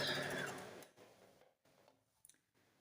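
Sewing machine stitching quilt fabric onto a side panel for a stained glass appliqué quilt, a steady whirring run for under a second that stops, followed by quiet handling and a few light ticks.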